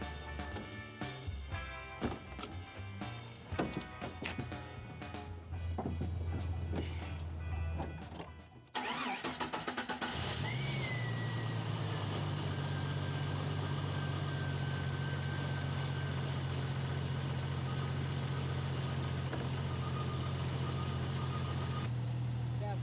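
A Jeep TJ engine cranks and catches, then settles into a steady idle that holds loud and close for the rest of the stretch, with small clicks and clatter beforehand.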